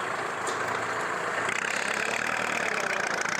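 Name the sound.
tractor engine running while pushing soil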